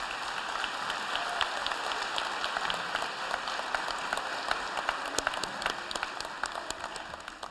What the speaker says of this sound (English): Please join me in another round of applause for the St. Martin of Tours Choir.